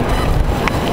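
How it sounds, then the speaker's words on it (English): Strong wind buffets the microphone on an outdoor walk in Nassau, a steady loud low rumble filling the whole second with no talking. "It is very windy."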